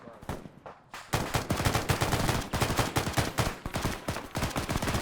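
Rapid weapon fire in the military shooter Arma 3 rattles off in dense bursts, a few scattered shots first and then near-continuous automatic gunfire cracking loudly for several seconds.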